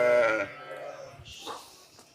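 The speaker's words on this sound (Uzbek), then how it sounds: "Nima deyapti bu sovliqlar Eldor aka?" A chestnut Hissor ewe lets out one loud, close bleat, followed by softer bleats and shuffling from the flock of ewes nearby.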